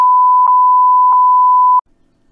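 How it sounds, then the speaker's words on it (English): A loud, continuous censor bleep tone holds for nearly two seconds with a few tiny dips, then stops abruptly, leaving faint quiet. "Keep bleeping this."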